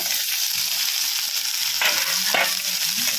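Pointed gourd frying in a pan, a steady close sizzle throughout with two brief clattering stirs of a utensil near the end, no voices.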